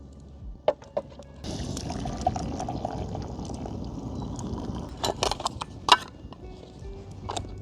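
Hot water is poured into a cup at a solo igloo camp in -26°C cold, a steady close pouring stream that runs for several seconds, with a few knocks and clinks at the start and end.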